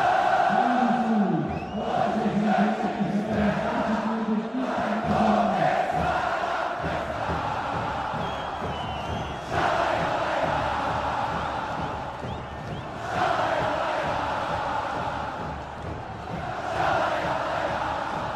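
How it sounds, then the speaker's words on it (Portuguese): Internacional supporters fill Beira-Rio stadium with a loud, sustained chant, a massed crowd singing in waves that swell and ease through the whole stretch. "Olha a torcida cantando."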